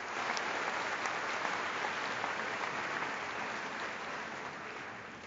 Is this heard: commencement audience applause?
yes